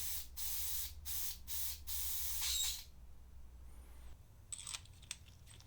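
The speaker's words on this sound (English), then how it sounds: "test the airbrush by spraying some isopropyl alcohol" Four quick hissing bursts from an airbrush spraying isopropyl alcohol, then a longer continuous spray that cuts off, leaving faint clicks and handling noises.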